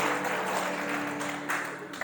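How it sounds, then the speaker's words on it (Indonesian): A church congregation claps with hands raised above their heads during worship. Brief, dense, even clapping from many people fills the room. "Boleh tepuk tangan di atas kepala."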